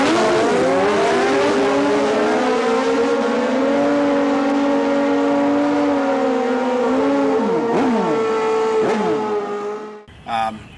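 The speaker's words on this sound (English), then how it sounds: "This is my 1997 Suzuki Bandit" A 1997 Suzuki Bandit street-legal drag motorcycle engine revs loudly and up close, its tone climbing and holding high before dropping and cutting off abruptly near the end, followed by a brief burst of sound.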